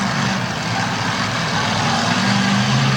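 Bigfoot monster truck at a Bloomsburg, Pennsylvania race, its heavy engine idling with a deep, loud, steady rumble and a low droning hum, nearby and without talk.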